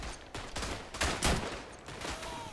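Rifle fire in the World War I shooter Verdun, a Belgian soldier's three-round French bolt-action, cracks in a few separate loud shots amid a chaotic background of distant battlefield gunfire.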